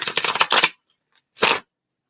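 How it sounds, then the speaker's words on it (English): A tarot card deck being shuffled, with two quick riffling bursts separated by a short pause and a few faint ticks, close and fairly loud with no talk. "they're shuffling that deck"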